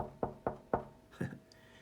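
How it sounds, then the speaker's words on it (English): Someone raps on a bedroom door: three evenly spaced knocks followed by a softer fourth, close by and fairly quiet in an otherwise still room. "There was a knock at the door."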